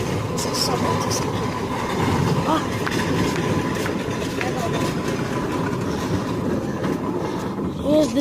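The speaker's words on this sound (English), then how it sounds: "Here's the train." A steam engine train with a freshly painted red finish rolls past close by, a continuous rumbling clatter of wheels on rails, with excited voices talking over it.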